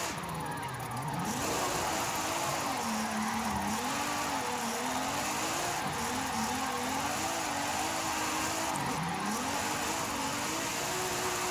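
A Nissan Z in Forza Horizon 5 slides through a long drift, its engine droning and rising and falling in pitch under a constant hiss of tire squeal, loud and continuous throughout.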